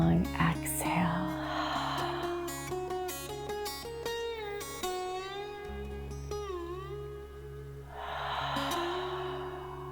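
Deep, long breaths during a yoga flow: a breathy rush near the start and a longer airy exhale toward the end, both over soft, steady background music.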